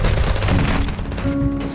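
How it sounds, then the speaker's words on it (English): A short, loud burst of overlapping gunfire from many players in Warzone, booming shots layered densely over less than two seconds. "There were so many people shooting at me there."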